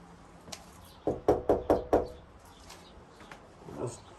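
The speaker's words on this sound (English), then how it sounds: "We'll just knock and ask." Knocking on the front door of a house in the small town of Leamington, Utah: four firm, evenly spaced raps close by, with a faint tap before and light rustling afterward.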